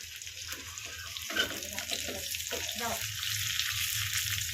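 A tadka of cumin, bedki chillies, garlic and curry leaves for dal palak sizzles in hot oil, a close, steady crackling hiss with a few sharper pops and a low background hum throughout.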